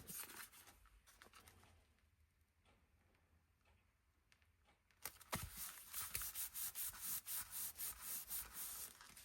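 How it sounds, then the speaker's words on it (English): Tea-dyed paper is handled on a crafting desk, giving soft rubbing and scraping at first, then louder rhythmic rustling and sanding-like strokes, close and steady with no talking. "This is tea-dyed paper."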